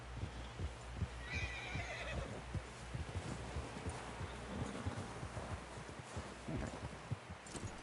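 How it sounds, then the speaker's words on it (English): A horse whinnies briefly in the video game Red Dead over steady, rhythmic hoofbeats clip-clopping along, set against a dense wash of background noise. "Someone help John down off this horse"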